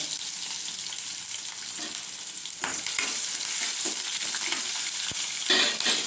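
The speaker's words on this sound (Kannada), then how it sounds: "ಎಣ್ಣೆ ಬಿಸಿಯಾಗಿದೆ. ಈಗ ಅದಕ್ಕೆ ಅರ್ಧ ಸ್ಪೂನು ಸಾಸಿವೆ, 1 ಈರುಳ್ಳಿ ಮತ್ತು ಸ್ವಲ್ಪ ಕರಿಬೇವಿನ ಎಲೆಗಳು" Mustard seeds, onion and curry leaves fry in hot oil, giving a continuous bright sizzle that swells louder partway through, broken by a few sharp crackles and pops, with no voices.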